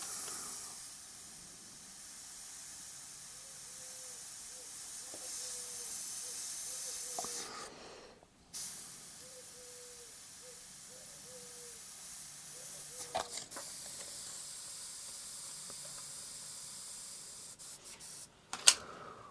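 Airbrush spraying paint onto a chrome skull artwork, a faint steady hiss in bursts, stopping briefly around the middle, with soft tapping and handling noises.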